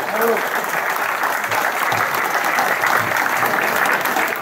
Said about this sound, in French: moi j'aimerais qu'on applaudisse